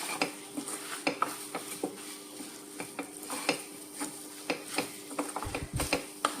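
Crushed garlic, onion and green chili being stirred into tapioca in a pan, with a gentle sizzle under repeated scraping and clinking taps of a spoon against the pan, close and fairly quiet.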